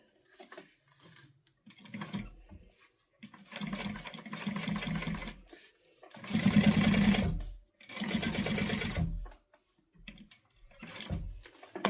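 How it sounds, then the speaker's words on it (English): A sewing machine topstitches fabric 1/8 inch from the edge for a guitar bag, in several bursts of steady mechanical whirring separated by short pauses. "now I'm going to top stitch this at 1/8 of an inch"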